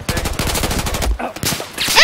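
Rapid automatic gunfire in the video game Battlefield 4 crackles loudly and close in a fast steady burst, briefly broken, then resumes with further game effects.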